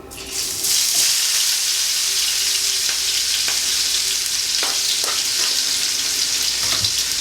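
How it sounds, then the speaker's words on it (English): Chopped scallions drop into a hot oiled pan over medium heat and sizzle loudly and steadily, a close, continuous crackling fry with no talking. "the scallion's all chopped up. I'm gonna just drop that in the pan right now"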